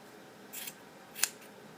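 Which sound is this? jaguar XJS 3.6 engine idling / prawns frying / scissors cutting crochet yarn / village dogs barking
scissors cutting crochet yarn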